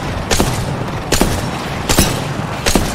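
Gunfire in the battle royale game Apex Legends comes in four loud, evenly spaced bursts over a dense, noisy game background, each blast sharp and booming.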